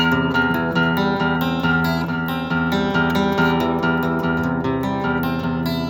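A guitar chord strummed repeatedly up and down in a steady rhythm, its notes ringing together, close and clear with no talking.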